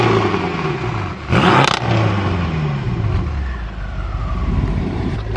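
An 800HP BMW F10 M5 engine revs loudly and nearby, with a sharp burst of revving early on, then rising and falling engine tones and a sustained roar that carries on to the end.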